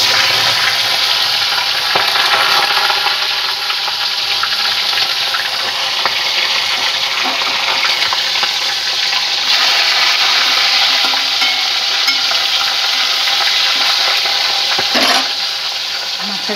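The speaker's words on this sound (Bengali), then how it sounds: "মাছের মাথাটা ভেজে নেবো।" A fish head fries in hot oil, giving a loud, continuous sizzle and crackle that lasts throughout, with a brief sharper spatter near the end.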